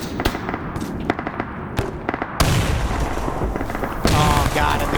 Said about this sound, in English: There's so much explosives coming in on this position, though.